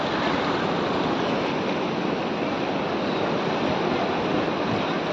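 Heavy sea waves roll and crash against the shore near Haji Ali Dargah in Mumbai, a dense, constant roar that fills the whole stretch, loud and close with a windy edge and no voices.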